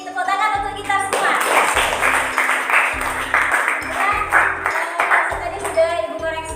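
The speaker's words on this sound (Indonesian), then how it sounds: "Tepuk tangan untuk kita semua." A classroom of students clapping together in a teacher-led round of applause, bright hand claps in rhythmic bursts mixed with voices and chatter, with a low steady hum running underneath.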